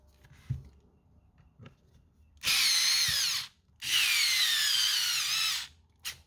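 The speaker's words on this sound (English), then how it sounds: "It's got a lot of torque on it, this cordless screwdriver." A cordless screwdriver whirs in two loud, steady bursts of about a second each, running forward and then in reverse, with a short gap between them and faint handling noise before.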